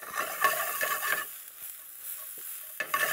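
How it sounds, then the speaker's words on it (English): Mushrooms sautéing in a pan, a close, steady hiss and crackle that is busier at first, then thins to a softer sizzle before flaring again at the end. "I will saute there. And now I'm putting my mushroom in there."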